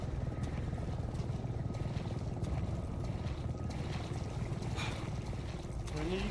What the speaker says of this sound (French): J'ai vu un hélico passer.